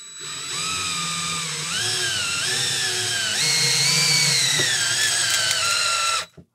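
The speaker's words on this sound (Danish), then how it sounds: "Og så kan vi skrue skruen i." A cordless drill driver in low gear drives a screw, its whining motor pitch rising and dipping steadily as the screw bites, loud and close, then cutting off abruptly at the end.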